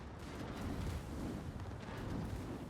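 Secondary guns on warships firing in World of Warships, heard as a steady, muffled low rumble of blended blasts with no distinct separate shots and no talking.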